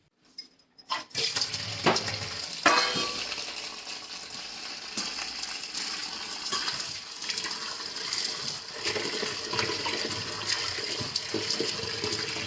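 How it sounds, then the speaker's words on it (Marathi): Kurdu wild greens being washed, with water gushing steadily from a tap and splashing among the leaves, loud and close, a few knocks and clatters at the start and no talk. "आता भाजी धुवून घेते"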